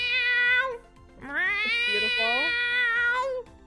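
A person imitates a cat's meows, voicing two long, loud, whining yowls, the second rising and screeching like a screaming cat, with a short spoken word between them.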